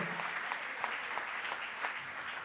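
A church congregation claps for God, steady sustained applause from a crowd in a room, fairly close and without talk over it.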